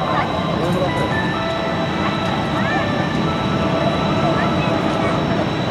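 Blue Impulse display jet engines running on the ground at Iwakuni air base during a final preflight check, a loud continuous roar with a steady high whine, with a voice speaking over it.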